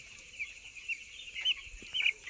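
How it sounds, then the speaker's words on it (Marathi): A seven-day-old chicken chick cheeps softly in a farm setting: several short, high-pitched peeps spaced irregularly over quiet background noise. "कोंबड्याचं पिलं बघा"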